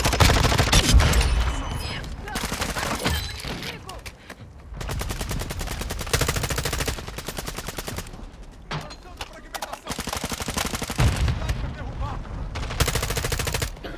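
Rapid bursts of video game gunfire, automatic weapons rattling in dense volleys with short pauses, loud and close, with faint talk underneath.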